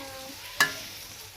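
Food is stirred in a frying pan over a faint sizzle, with a single short scrape of the utensil against the pan.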